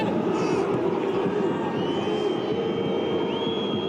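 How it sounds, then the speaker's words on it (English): Stadium crowd at an Inter Milan versus AC Milan match in EA Sports FC, a sustained wall of jeering and booing noise that runs for a few seconds. "Boos whilst Inter have possession,"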